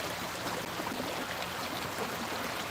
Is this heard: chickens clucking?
no